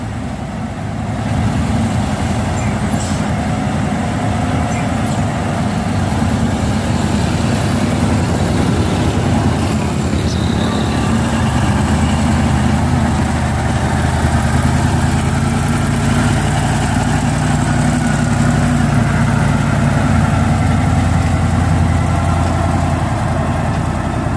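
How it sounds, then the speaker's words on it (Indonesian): A truck engine with an intercooler idles and rumbles steadily at close range, a loud, low continuous drone with no talking. "Ya, ini ada truk intercooler."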